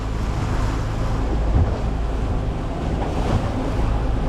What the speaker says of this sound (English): So the boat's just going to putt along.